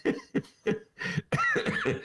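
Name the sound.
coughing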